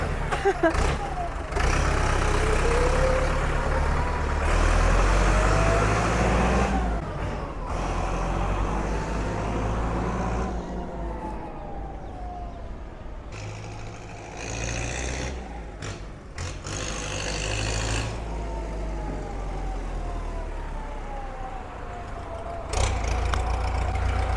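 An old imported Ford 6640 tractor engine revs repeatedly, rising and falling in loud surges over a rumbling idle, with someone talking over it.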